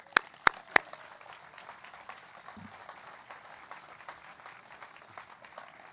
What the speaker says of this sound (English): if you could just join me in giving a round of applause to a very special person, Jeff Riley.